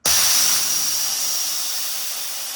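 Air rushes loudly out of a 175 psi air compressor in one steady, sharp hiss that starts abruptly and stays strong, fading only slightly over a couple of seconds.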